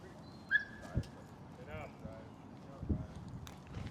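Dogs in a group training class yip and whimper faintly amid a busy indoor space, with brief barks and movement sounds mixed among people talking.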